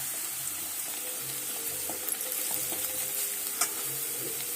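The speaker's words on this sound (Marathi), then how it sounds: "हे सर्व आता आपल्याला तेलात टाकून परतून घ्यायचं आहे चांगले" Ground spices with garam masala, coriander powder, salt and turmeric fry in oil for a green moong curry, a soft continuous sizzle with light spoon stirs and occasional taps against the pot, no voices.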